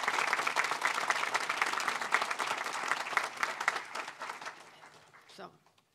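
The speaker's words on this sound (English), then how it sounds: "Let's give them another round of applause." Audience applause for legislators at a bill-signing event on children's social media protection, a dense, steady clapping crowd that thins and fades out near the end.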